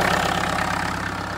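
An old Peugeot 504 pickup engine, abandoned for years in a field, idles steadily and a bit unevenly with a low, tractor-like knocking chug, close and loud throughout.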